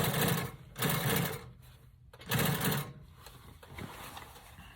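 A sewing machine stitches a car vinyl top in a few short, close bursts of rapid whirring with pauses between.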